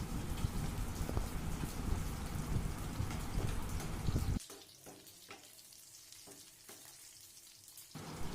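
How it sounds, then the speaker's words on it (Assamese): Onions sizzling and frying in a pan while making dahi chicken curry, a dense crackling hiss for about four seconds, then dropping to a quieter, sparser sizzle with occasional pops. "লৈছোঁ 2টা পিঁয়াজ এইখিনি মই ধুনীয়াকৈ ভাজি লৈছোঁ"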